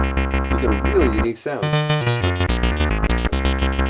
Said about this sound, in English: Let's set a square wave going to the filter.